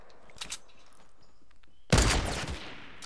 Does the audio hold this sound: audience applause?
no